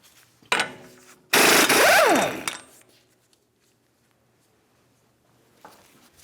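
A brief loud burst of a power impact wrench rattling for about a second while removing a 32mm axle nut on a 2009-2019 Ford Flex, preceded by a shorter burst, then quiet shop ambience.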